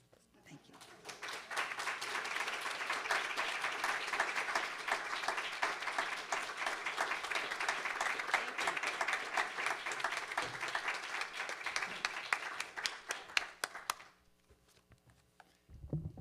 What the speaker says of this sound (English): How about another round of applause for author Julia Glass?